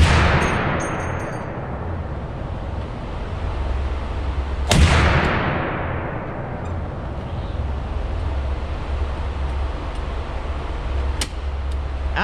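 Two heavy, booming shots from a Barrett M82 .50-caliber anti-materiel rifle at a live-fire range, one at the start and one near five seconds, each with a long rolling echo, plus a faint sharp crack toward the end.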